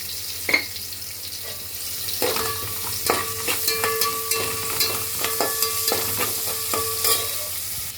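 Onions with salt sautéing in a pan, a steady sizzle with repeated stirring scrapes and clinks of a utensil against the pan, close and fairly loud, no talking.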